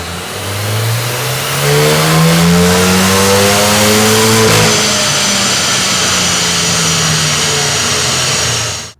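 A stock Hyundai i20N on a dyno revs up hard, its engine note climbing steadily in pitch through a long, loud pull before cutting off at the end.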